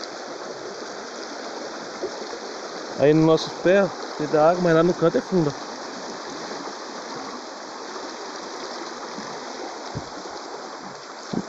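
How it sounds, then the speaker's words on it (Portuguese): Strong river rapids rush loudly and steadily at a fishing spot, a dense broadband roar throughout, with someone speaking briefly over the water near the start. "A corredeira forte mesmo."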